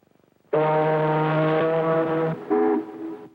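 A voice mimics the deep, booming horn of an ocean liner: one long, loud, steady low blast with a brief second honk near the end, alone and close.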